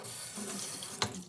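Water trickles and splashes onto a sharpening stone with slurry during knife honing, a short soft pour close by, ending in a brief louder splash.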